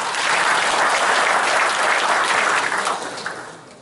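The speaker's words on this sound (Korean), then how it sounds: "박수 부탁드립니다." Warm applause from a seated audience at a chamber of commerce business breakfast meeting in Gumi, South Korea, a dense clapping that holds steady, then thins and fades out near the end.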